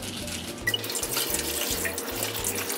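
Tap water runs into a kitchen sink as okra is rinsed under it, a close, steady splashing rush broken by rhythmic low thumps and shifts as the pods are rubbed and moved in the stream.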